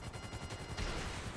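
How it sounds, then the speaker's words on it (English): Video game gunfire, a quick run of rapid shots fired close in a short continuous burst, moderately loud and with no voices over it. "I can shoot this guy."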